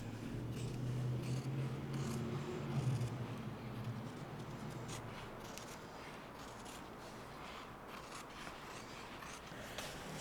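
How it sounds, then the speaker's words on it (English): Scissors cutting roughly through thin leather, giving a steady close rasping and snipping texture that runs continuously, with no talking. "So I just use the scissors because it's thin enough to cut with scissors, and cut them roughly out"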